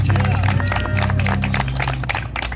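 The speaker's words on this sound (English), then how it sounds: "Give these girls a round of applause." Outdoor crowd applause at a Mopar car show beauty contest on Long Island, busy continuous clapping and cheering mixed with crowd chatter over a low engine-like rumble, fairly loud throughout.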